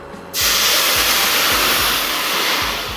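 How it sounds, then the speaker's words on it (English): Red port wine hits a hot pan after sautéed mushrooms while a mushroom sauce is being made, and a sudden loud sizzling hiss erupts. The hiss stays strong and steady and eases off slightly toward the end. "We deglace with porto wine, red porto wine."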